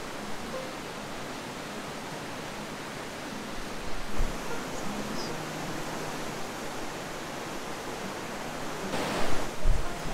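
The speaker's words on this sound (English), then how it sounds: "I'm just sitting here on the wall listening to the water." Steady rushing river water fills the scene with a constant broadband wash, a few faint knocks and a louder splash near the end.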